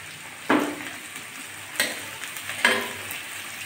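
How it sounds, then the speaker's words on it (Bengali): Crushed garlic drops into hot oil with a dried red chilli, raising a steady bright sizzle, with three sharp crackling bursts as pieces land and spit, close and moderately loud, no talking. "আমি এখন এই যে থেতো করে রাখা একটুখানি রসুন দিয়ে দিচ্ছি"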